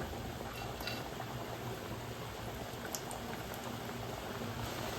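Ghughra dumplings frying in hot oil in a pan over a medium flame, a steady dense sizzle and bubbling heard close and alone, with no speech.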